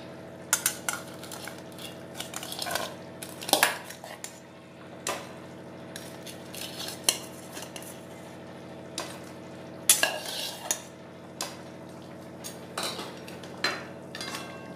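Fried fish heads being stirred into boiled potato curry in a pot, with repeated scraping and clinking of a spoon against metal over a steady low simmering sizzle, close and moderately loud, no talking.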